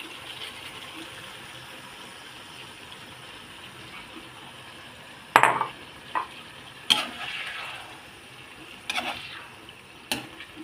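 Sardines and loofah simmering in a pan give a quiet, steady sizzle, broken by several sharp clanks and scrapes of stirring spaced a second or two apart.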